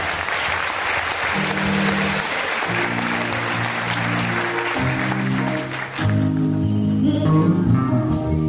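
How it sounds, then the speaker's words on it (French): A church congregation bursts into loud, sustained applause and cheering at a French-language service, with music playing underneath throughout. "est-ce que tu peux acclamer très fort?"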